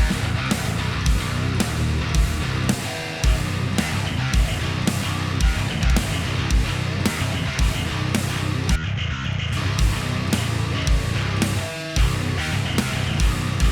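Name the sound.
djent bass guitar played through Torus bass VST plugin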